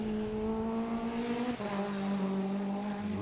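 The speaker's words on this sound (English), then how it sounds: "let's follow this little red Caterham around" A little red Caterham race car laps the track at Oulton Park. Its engine note rises, drops sharply at a gear change and climbs again, a moderately distant tone heard alone.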